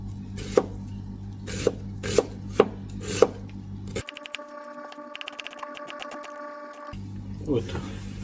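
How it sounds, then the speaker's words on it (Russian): Knife chopping onion into quarter rings on a board, several sharp distinct thuds spaced about half a second apart, followed by a mechanical whirring interlude, with a voice talking faintly in the background. "А мы нарежем с вами лук. Лук нарежем четверть кольца."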